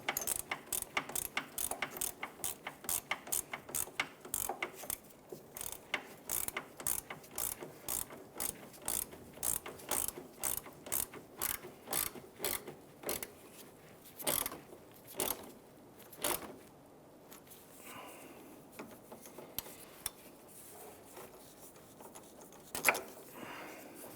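A hand ratchet clicks steadily as it snugs down the tie rod adjusting sleeve at the pitman arm of a 1999-2004 Jeep Grand Cherokee, with rapid close pawl clicks in a long run that later breaks into slower, spaced bursts.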